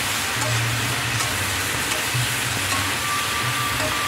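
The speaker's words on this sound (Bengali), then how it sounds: "এর মধ্যে সিদ্ধ করে রাখা সয়াবিনগুলো এখন আমরা দিয়ে দিচ্ছি। দিয়ে ভালো করে নাড়াচাড়া করে কষাতে হবে।" Boiled soybeans stir-fried in a pan for a vegetarian curry with taro and potato, giving a steady, loud, continuous sizzle with scraping stirs, no voices.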